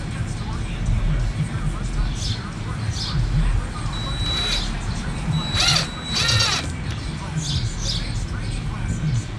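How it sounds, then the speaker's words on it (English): A power drill drives screws into wood in a few short bursts, rising and falling in pitch, over a steady background of room noise. "I can drill these other two"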